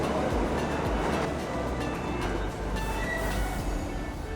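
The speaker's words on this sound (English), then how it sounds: "it was time for another first, that being their first subway ride" A New York City subway train ride, steady loud rumble and rattle of the moving car carrying on throughout with no talk.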